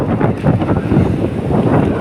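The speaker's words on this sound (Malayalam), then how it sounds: "അപ്പോൾ നല്ല കാറ്റുണ്ട് ഉണ്ട്" Strong wind roars steadily into the microphone, a dense, buffeting rush with no voices.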